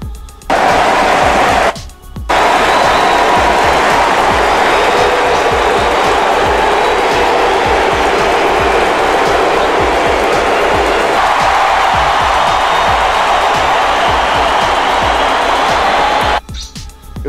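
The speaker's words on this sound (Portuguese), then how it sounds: "as vaias se misturam com aplausos. Cara, é som de estádio" A football stadium crowd roars continuously, booing blended with applause, loud and dense throughout with brief dips near the start and end.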